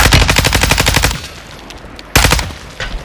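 ISO-45 submachine gun fire on the Vondel map in a Resurgence shooter game: a loud, rapid automatic burst for about a second, a pause, then a second short, sharp burst.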